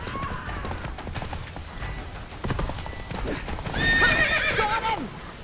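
Roach, a horse in The Witcher 3, gallops with steady clip-clopping hooves and then lets out a loud neigh near the end, while a voice speaks briefly over the hoofbeats.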